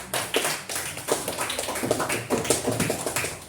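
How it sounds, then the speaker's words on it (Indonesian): A classroom of students claps for a student group, giving uneven, rhythmic claps close by that continue briskly throughout. "kita beri tepuk tangan kepada Pedro dan kelompoknya."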